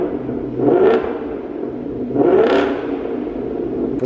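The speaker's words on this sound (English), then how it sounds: "we have the Borla Attack exhaust system on this car" A 2025 Ford Mustang GT V8 with a Borla Attack exhaust and 10-speed automatic revs twice in quick, rising bursts over a steady idling rumble, close and fairly loud.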